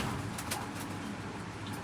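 Male pigeons kept as a hobby coo softly and steadily, a low repeated murmur close by with faint chirps over a constant background hum.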